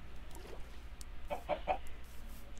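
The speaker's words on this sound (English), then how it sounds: "What you doing there, chicken?" A chicken in the Minecraft video game gives a few short, soft clucks over a quiet background.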